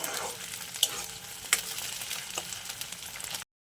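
Tomatoes stirred into golden fried onions in hot oil, a soft steady sizzle with a couple of sharp spoon clinks against the pan, close and alone before cutting off.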